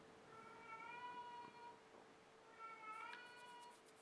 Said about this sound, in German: Die Katze dreht wieder durch